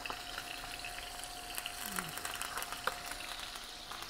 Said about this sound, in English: that fresh herb a little bit burning to give the flavor to the oil